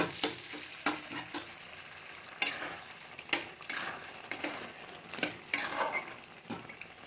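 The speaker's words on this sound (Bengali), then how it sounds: "এখানে আমি দুটো ডিম একটু ঝুড়ো ভাজা করে নিচ্ছি।" Two eggs being scrambled in a hot frying pan: a soft continuous sizzle broken by repeated sharp scrapes and clinks of the spatula stirring, close and with no talk.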